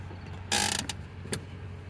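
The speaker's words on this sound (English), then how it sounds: "Put my e-brake on." A 2010 Toyota Tundra's parking brake engages: a short mechanical clunk followed by a couple of quick ratcheting clicks over a low idling engine hum.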